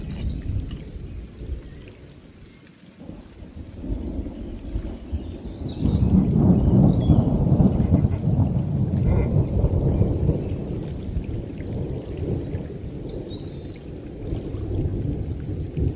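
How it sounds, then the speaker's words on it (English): Deep rolling thunder rumbles in the distance over a river in Bavaria, swelling louder midway, with a soft wash of rain beneath it. "the thunder getting closer and closer"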